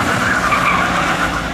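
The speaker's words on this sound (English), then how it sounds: "Are we gonna get a handbrake turn?" A tuner car pulls a handbrake turn at a rollout, its tires skidding and squealing in a loud, sustained screech that echoes off nearby buildings.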